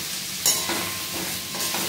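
Onions being stir-fried in a pan, lightly fried for chilli chicken, giving a soft sizzle with a few quick scraping stirs, close but fairly quiet and brief.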